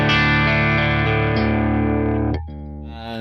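A heavily distorted electric guitar chord rings out through a Revv D20 amplifier on its G3 heavy rhythm channel, sustaining loud and thick before being cut and left to fade.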